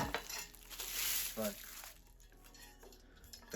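A metal frying pan clanks and scrapes as it is picked up and handled, with a few sharper clinks against a faint background hiss.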